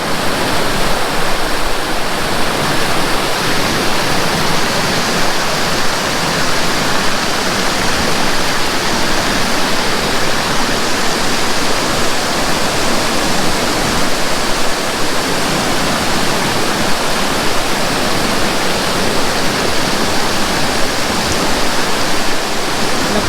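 Seven Terraces Falls in Sultan Kudarat pours in a constant, dense roar of falling water, loud and close with no letup and no voices.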